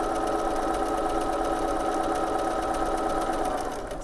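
A sewing machine runs fast and steady, stitching fabric along a guide in one continuous, loud mechanical whir with a fine rapid rhythm and no talk.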